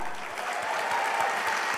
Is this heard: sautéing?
no